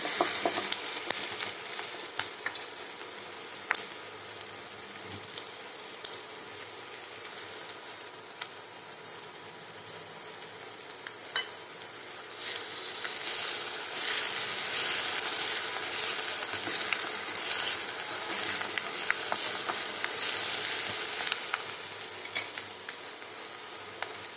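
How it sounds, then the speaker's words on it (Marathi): Onion and tomato frying in a pan until golden for a tomato, onion and garlic chutney, a steady bright sizzle with crackling pops that swells louder in the second half, close and without talk. "चांगला गोल्डन कलरवर भाजू द्यायचं ह्याला।"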